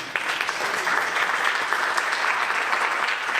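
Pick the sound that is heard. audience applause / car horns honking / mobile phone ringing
audience applause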